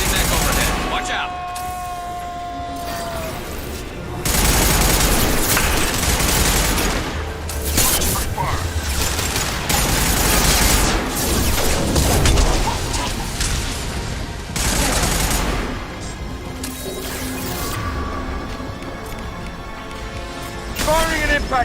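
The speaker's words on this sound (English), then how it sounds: "Firing an impact shot." Dense gunfire and a heavy impact shot in the video game Mass Effect 2, with continuous rattling bursts, booms and crashes layered under game voices and music throughout.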